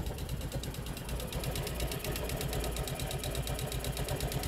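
A motorcycle engine, worked on after a faulty wiring harness was replaced, runs after starting with a fast, even ticking beat over a low steady drone, close and continuous, with no voices.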